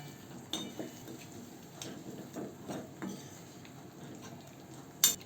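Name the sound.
stirring ridge gourd into fried masala in a pan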